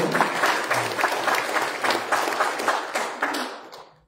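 A room full of people applauding, with steady clapping that carries on and then trails off at the end.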